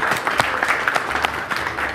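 An audience applauds at a televised event in Baku, a steady wash of many hands clapping, loud and close throughout.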